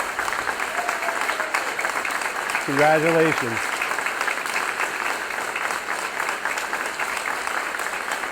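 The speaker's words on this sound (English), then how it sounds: "Let's give them all a round of applause." Audience applause fills a student award ceremony at Westford Academy, a steady dense clapping throughout while a voice briefly speaks over it midway.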